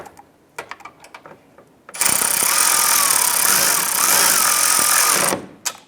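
A power tool or ratchet tightens a headlight mounting bracket bolt on a 2011-2018 Ram 1500, a loud steady mechanical whir running for about three and a half seconds after a few light clicks and taps.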